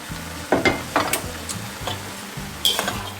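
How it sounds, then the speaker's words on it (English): Sunfed chicken-free chicken stir-frying in a pan, a soft steady sizzle broken by several scraping stirs and light clinks of a utensil against the pan. "Okay, so now we're going to put this into stir fry"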